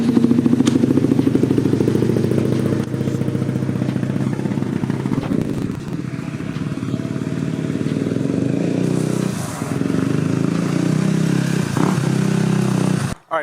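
A motorcycle fitted with new hand guards rides a quick lap around a yard, its engine droning loud and close throughout with rising and falling revs, then cutting off abruptly at the end.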